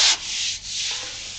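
Sandpaper stuck to the glossy side of a marble slab rubs against foam wing sheeting in a short, steady, close scratchy stroke with no voices.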